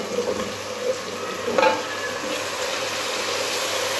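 Eggplant goes into a hot pan and fries, a continuous close sizzle with a few light clatters and stirring scrapes early on, then an even crackle.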